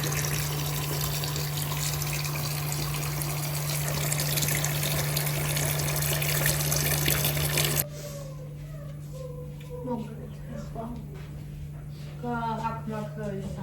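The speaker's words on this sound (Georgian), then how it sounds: "აი ასე, ცივი წყალი." A kitchen tap runs cold water in a steady, hissing stream for several seconds, then shuts off. A voice follows and talks over faint background noise.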